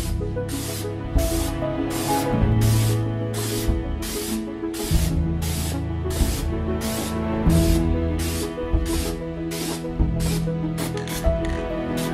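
Car rims are spray painted with a can, giving repeated loud hissing bursts of roughly a second each, evenly spaced with short pauses between them, under a faint background hum.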